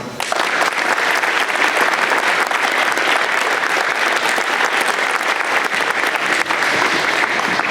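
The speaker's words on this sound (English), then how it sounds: "So let's give a round of applause." Sustained audience applause at a school awards night, a thick, even roar of many hands clapping that holds steady throughout with no talk over it.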